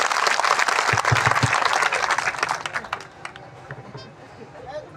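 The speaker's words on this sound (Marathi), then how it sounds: "एकदा जोरदार टाळ्या त्यांच्यासाठी झाल्या पाहिजे" A crowd at an election campaign rally in Vaijapur for independent candidate Eknath Khanderao Jadhav bursts into loud, dense applause that holds for about three seconds, then thins and fades under quieter background voices.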